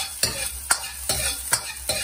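Garlic and ginger sizzling in a stir-fry pan for Chinese-takeaway-style pak choi: a loud, close, continuous hiss broken by five evenly spaced scraping stirs.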